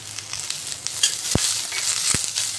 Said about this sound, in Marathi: तर आता भाज्या छान परतल्या